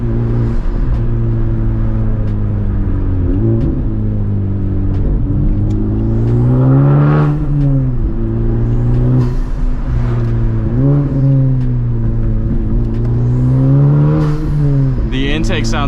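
A modified Honda Civic Type R FL5 engine drones loudly and steadily, its pitch rising and falling with gear changes as intake noise swells, while a person talks over it.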